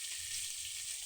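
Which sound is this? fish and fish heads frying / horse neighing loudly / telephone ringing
fish and fish heads frying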